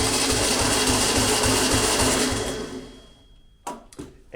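A salvaged, long-abandoned VW Beetle engine cranks steadily on the starter during a compression test, a loud rhythmic churning that runs for about two and a half seconds, then stops, followed by a few brief knocks and clatters.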